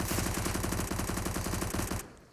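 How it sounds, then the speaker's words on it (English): Rapid sustained automatic fire from a P90 submachine gun in the CS:GO video game, a loud, dense stream of shots for about two seconds before it cuts off abruptly, with no talk. "P90. Oh, I love that sound."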